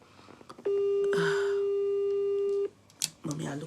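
An outgoing mobile call rings through with a long, steady electronic ringback tone lasting about two seconds. Speech and background noise can be heard before and after the tone.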